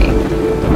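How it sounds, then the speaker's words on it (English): Storm effect over the open sea, with heavy rain and roaring wind forming a loud, dense wash that stays steady throughout. "a storm churns the water into big waves. A strong wind whistles across the sea."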